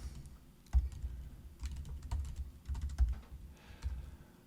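Computer keyboard typing at a quick, uneven pace, with bursts of clacking keystrokes and brief pauses, quiet and close with no voice.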